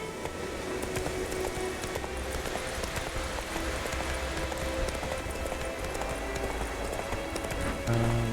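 Roach the horse trotting in The Witcher 3, steady rhythmic clip-clop of hooves on ground, continuous and fairly close, with game ambience underneath.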